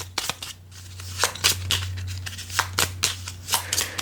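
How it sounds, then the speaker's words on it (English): Cards are shuffled by hand for a Gloomhaven: Jaws of the Lion board game, several quick riffling bursts at irregular intervals, close and fairly soft over a steady low electrical hum. "I guess I have to shuffle my cards here"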